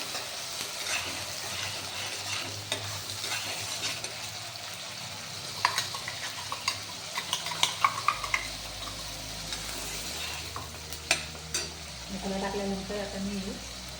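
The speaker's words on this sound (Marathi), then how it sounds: "आपण मसाला मसाला छान छान भाजून घ्यायचं" Spice masala roasts with cumin in a pan while it is stirred. A steady close sizzle runs under scattered spoon scrapes and clinks against the pan.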